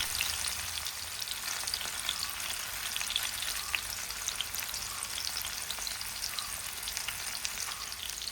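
Masala-coated fish pieces fry in coconut oil in a pan over medium flame for a Mangalorean fish fry, a steady soft hiss with light crackles, even and unbroken, with no talking.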